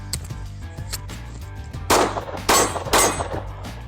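Three pistol shots fired at a target crack out in quick succession about half a second apart, loud and sharp over a low background hum.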